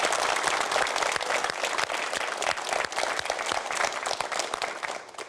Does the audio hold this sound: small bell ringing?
no